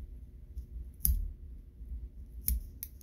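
Small scissors snipping excess thread during fly tying at a vise, two sharp close clicks about a second and a half apart plus a lighter third snip, over a quiet room.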